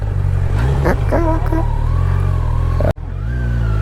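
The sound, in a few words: Kawasaki Z900 motorcycle engine while turning around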